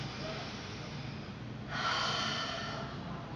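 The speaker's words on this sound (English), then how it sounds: "So as you inhale" A single long inhale during a qigong turtle-pose strength exercise swells into a steady airy rush halfway through, close and fairly quiet over a low background hum.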